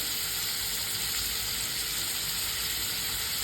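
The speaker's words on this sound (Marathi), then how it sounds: "आणि थोडंसं मीठ छान परतून घ्यायचं आहे याला मंद वरती" Green chili, garlic and salt sauté over low heat in a pan for a green tomato chutney, giving a steady, close sizzle and frying hiss that continues evenly without a break.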